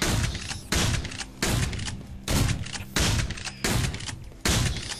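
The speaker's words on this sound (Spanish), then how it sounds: "Otra vez el E, la escopeta. Vamos a ver la escopeta, a ver qué tal." Six heavy, booming shotgun blasts fire in a steady rhythm, each loud and close with a short decaying tail, from a player's weapon fighting spider waves in the game Dropship Down.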